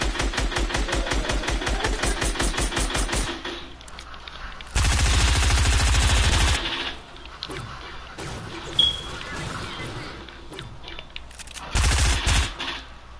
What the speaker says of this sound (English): I can just shoot it down